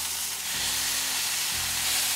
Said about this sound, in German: Und lasse jetzt ein bisschen anbraten.